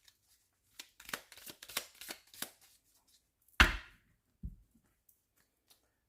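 Tarot cards shuffled and then cut: a run of crisp riffling card snaps, one louder slap of the deck, then a soft thud and quiet. Close and with no voices.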